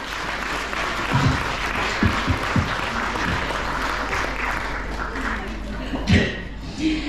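An audience applauds at a festival award ceremony honoring a folk dance ensemble, steady dense clapping filling the hall throughout, with a few sharper nearby claps and a voice speaking briefly near the end.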